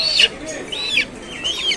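Several chickens cluck and squawk in short repeated calls, close by at the Nilganj poultry market, with a faint murmur of voices in the background.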